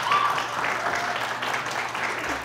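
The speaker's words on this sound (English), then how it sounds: "I strategically paused for applause" An audience at a quiz show between high school teams applauds, a steady wash of clapping that holds for a couple of seconds without any voices over it.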